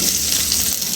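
Chopped onion frying in fish oil in a pan, cooking for a coconut fish dish with spinach, gives a steady, close, dense sizzle that runs unbroken throughout with no voices.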